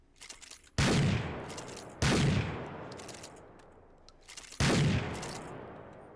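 Three loud, booming gunshots from a weapon in the VR shooter game H3VR, fired about a second and a half apart, each followed by a long decaying rumble, with quiet handling noise between.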